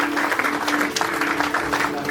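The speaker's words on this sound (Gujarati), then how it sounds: "બધાને ક્લેપિંગ્સ પ્લીઝ." Applause from the audience at a scholarship awards ceremony as guests are welcomed with bouquets and shawls, a steady wash of hand claps at moderate level throughout, with some background voices mixed in.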